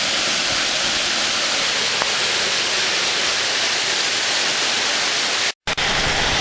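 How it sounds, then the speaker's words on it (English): Flash floodwater about eight inches deep rushes downhill into a storm drain during a December Orange County storm, a loud, steady broadband roar close by, cutting out abruptly for a moment near the end. "it's flowing right down to the storm drain"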